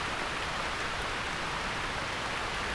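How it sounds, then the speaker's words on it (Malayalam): Heavy rain pours down steadily as a dense, constant hiss near a forest road at Arepalayam in Sathyamangalam, with no voices and no breaks in the downpour. "ഇപ്പോൾ നല്ല മഴ."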